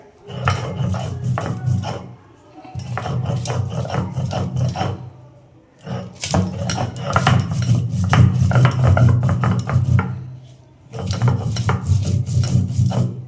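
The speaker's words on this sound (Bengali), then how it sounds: "এই দেখো আমার শিলে সব একসঙ্গেই বেটে নেব" Spices and green chillies are ground on a stone grinding slab (shil) in a home kitchen, rhythmic gritty rasping strokes in four long bursts separated by short pauses, close and steady.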